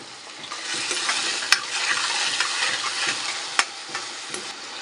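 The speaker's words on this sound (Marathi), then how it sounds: "टोमॅटो थोडा शिजवून घेऊया आपण टोमॅटो लवकर शिजण्यासाठी मी याच्यामध्ये एक छोटा चम्मच मीठ टाकते" Tomatoes with a little salt cook in a pan, giving a soft steady sizzle with occasional sharp clicks and scrapes of a spoon stirring against the pan.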